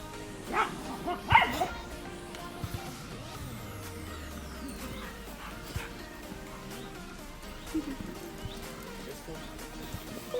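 Dogs bark in a few short bursts near the start in a public park, fairly distant, over steady outdoor background noise with passing traffic.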